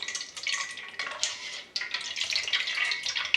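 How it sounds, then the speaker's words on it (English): Oat milk dripping and trickling from a twisted straining bag into a container, a steady, close, irregular patter of liquid with brief louder splashes and no talking. "And it all starts to drip out."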